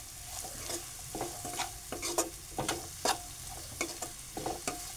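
Onion frying in a pan until reddish for a red amaranth vegetable dish, a soft sizzle broken by repeated stirring scrapes and spatula taps, close and fairly quiet, with no talking.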